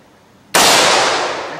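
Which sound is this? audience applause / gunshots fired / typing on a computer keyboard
gunshots fired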